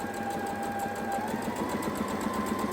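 A Brother sewing machine fitted with a picot foot stitches fabric, running steadily with a fast, even mechanical whir and rhythmic needle clatter, close and fairly quiet, with no talking.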